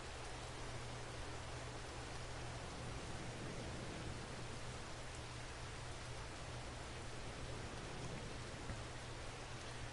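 Rain falls steadily outside, a uniform hiss-like wash with a faint low hum underneath, holding the same level for the whole stretch without any speech.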